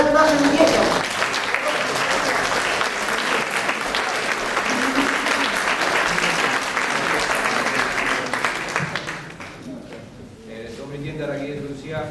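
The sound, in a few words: audience applause at a concert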